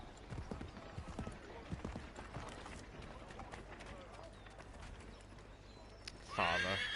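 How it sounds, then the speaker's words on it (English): A horse in the video game Assassin's Creed 3 gallops with rapid, fairly close hoofbeats, then gives a loud neigh at the very end. "I didn't mean to get on this horse, but let's go."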